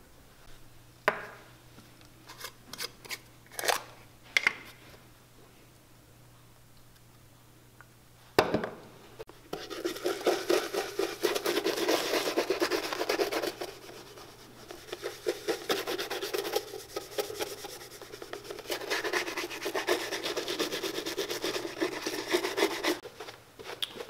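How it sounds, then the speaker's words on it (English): Horsehair brush buffing shoe cream off leather Meermin shoes: a few light scuffs, then steady, brisk brushing strokes, close and fairly quiet. "I used a horsehair brush to get the cream off"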